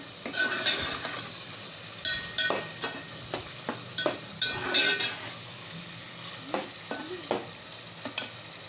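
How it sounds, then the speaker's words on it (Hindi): Tomatoes frying with dried spices in a pan for maash daal, a steady close sizzle broken by repeated scraping and clinking of a spoon stirring against the pot, no talk. "मसालों के साथ टमाटरों के को भून लेंगे।"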